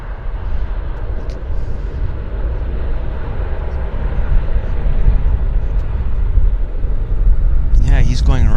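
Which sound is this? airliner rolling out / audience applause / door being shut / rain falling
airliner rolling out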